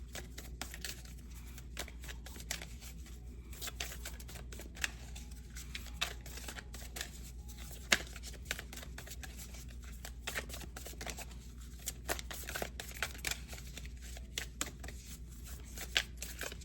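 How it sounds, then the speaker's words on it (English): Oracle cards are shuffled before an Ancestors card is pulled, producing soft, quiet, irregular riffling and flicking sounds that continue steadily throughout, alone and close by. "I'm gonna pull an Ancestors card"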